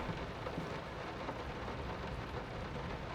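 Steady, dense rain pours in the video game Layers of Fear Remake, a continuous hiss with low rumbling underneath that could be thunder, holding at an even level throughout without voices.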